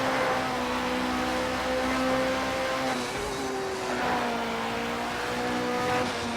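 A Porsche race car sweeps through the banked Carousel corner at the Nürburgring Nordschleife, its engine droning loud and steady with shifting pitch and a rough tyre rumble underneath, no talking.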